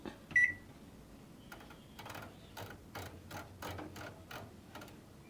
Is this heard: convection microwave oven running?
yes